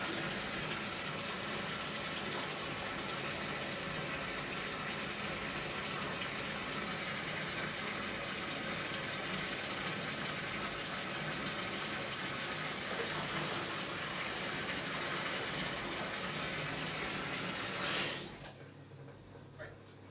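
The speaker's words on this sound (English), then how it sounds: "So I'm going to put some more cold water in" Cold water gushing from a tap into a bath, a loud, steady splashing rush that runs unbroken for about eighteen seconds before abruptly cutting off, leaving near quiet.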